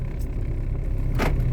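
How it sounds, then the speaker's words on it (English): Car driving out of a parking garage, a steady low engine and road rumble close by with a brief brighter whoosh near the end. "We are driving"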